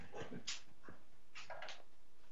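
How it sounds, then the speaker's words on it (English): A pet dog barks indoors, a few short yaps and whimper-like calls at moderate distance, fairly faint against a quiet room. "I'm just gonna close this door because my dog's barking."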